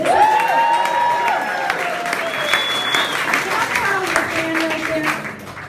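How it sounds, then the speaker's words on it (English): A crowd at a Maryland Democratic Party unity event applauds the Democratic ticket, with loud sustained clapping and scattered cheers and whistles that gradually ease off. "So a round of applause for your Democratic ticket."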